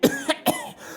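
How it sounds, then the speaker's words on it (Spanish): A single person gives a short fit of three harsh, dry coughs in quick succession, close and clear, in a narrated audiobook of Poe's story set in damp wine vaults. "¿Hace mucho tiempo que tiene usted esa tos?"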